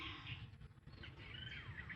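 Birds chirp in the mountains, with high calls coming and going over steady outdoor background noise. The calls are faint and sound fairly distant.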